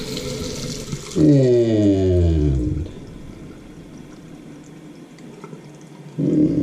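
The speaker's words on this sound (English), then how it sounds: "So we'll turn on the hot water" A hot water tap in a home bathroom runs with a steady rushing flow, loud at first, then dropping sharply to a weaker trickle as the pressure falls, with the strong flow surging back near the end.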